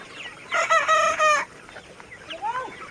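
Fowl on a Bangladeshi chicken farm: a rooster crows loudly for about a second, then softer clucks and calls follow against a quiet background hum.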